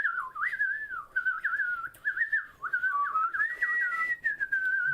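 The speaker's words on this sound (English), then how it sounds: "Just 10 minutes of us whistling." A person whistles a continuous, wandering melody of gliding and warbling notes, close and clear against a quiet background, with only brief breaks for breath.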